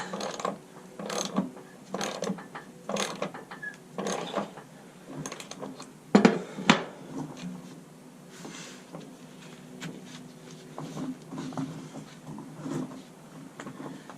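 Hand ratchet tightening a bolt on a New Holland 467 haybine in tight quarters: repeated rapid clicking bursts in an uneven rhythm, close and alone, with one louder clank partway through.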